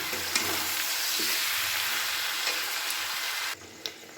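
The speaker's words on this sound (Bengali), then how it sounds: "আর এখানে আড়াইশো গ্রাম চিনি গুড়টা দেওয়ার পরে খুব ভালো করে কিন্তু আমি মিশিয়ে নিচ্ছি" Sugar and jaggery are stirred into a hot olive pickle in a pan, giving a loud, steady sizzle and frying hiss close by with soft scraping. The sizzle drops away near the end, followed by a small knock.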